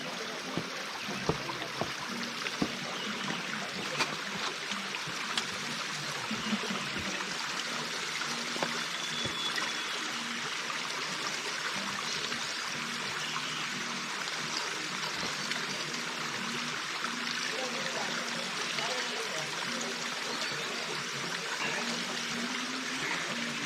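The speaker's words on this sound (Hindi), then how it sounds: "ये पानी का पहला और आखिरी नेचुरल रिसोर्स है यहाँ से ऊपर जाने के लिए" Mountain stream on the Triund trek in Himachal, flowing steadily with broad rushing and trickling water, close and continuous throughout with no talk over it.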